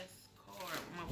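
Oracle cards being shuffled and drawn during a spiritual card reading, a short papery rustle and flutter of cards lasting about a second, close and fairly quiet.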